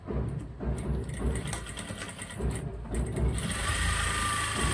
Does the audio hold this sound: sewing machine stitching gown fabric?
yes